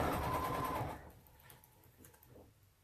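Sewing machine stitching a quilted flower pillow: a steady, close mechanical whir and rapid needle chatter that runs for about a second, then stops, leaving a quieter room with faint handling sounds.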